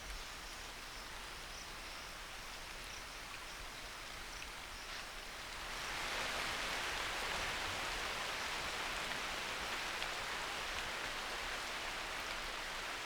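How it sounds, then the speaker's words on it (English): Monsoon rain falls at daybreak in Kaziranga as a steady, faint hiss of rainfall. About halfway through it swells into a heavier downpour, with no voices. "At daybreak, the rain resumes."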